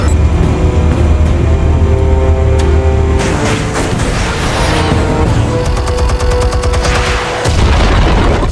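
Explosives detonating in the Batman Telltale video game Realm of Shadows episode, a loud, sustained wash of booming blasts and crackling debris that keeps rolling through the whole stretch, with a brief dip before the roar resumes.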